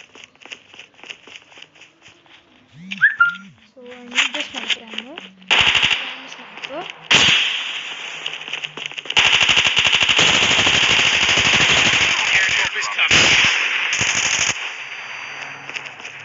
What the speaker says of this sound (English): so now I'm taking my machine gun.